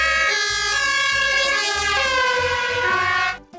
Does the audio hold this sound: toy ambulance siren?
yes